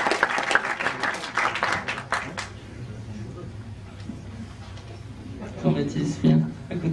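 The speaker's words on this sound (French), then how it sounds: "Jean-Baptiste Toré, on l'accueille bien fort, s'il vous plaît, on l'applaudit." A burst of audience clapping at a film festival awards ceremony in Strasbourg fades after a couple of seconds, followed by quieter room noise and a voice speaking near the end.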